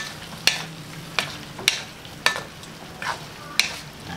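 Sinanglao sautés in a hot pan under a constant sizzle, while a utensil scrapes and stirs in a regular rhythm about every half second, close and clear.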